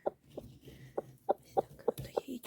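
A broody hen gives a series of short, regular clucks close by, about one every quarter second, with faint background noise and no talk.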